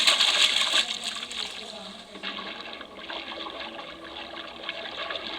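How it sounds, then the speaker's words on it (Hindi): A fish dropped into river water, with splashing and trickling liquid sounds at moderate level, strongest at the start and continuing as steady watery noise. "मैं इस मछली को पानी में डालकर देखूंगा"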